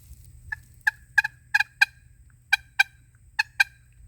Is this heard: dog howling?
no